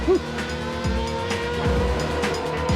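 A 2003 Formula 3000 race car at a pit stop in Italy: loud engine roar and tire squeal close by at the track, with other car noise behind it.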